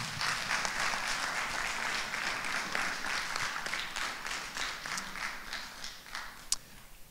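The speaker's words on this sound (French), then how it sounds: "On peut encore les applaudir ?" Wedding guests applaud the couple at a religious nuptial blessing ceremony, a fairly quiet, steady patter of many hands that holds for several seconds, with one sharper clap standing out near the end.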